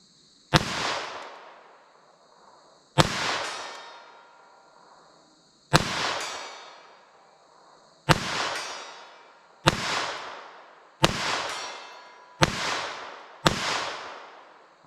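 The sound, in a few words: gunshots from Taurus TX22 .22 LR pistol at 75 yards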